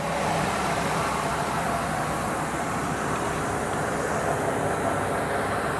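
A 6.8 liter V10 in a 2000 Ford Excursion XLT fitted with a cold air intake idles steadily and smoothly, a continuous low rumble with broad hiss and no other sounds.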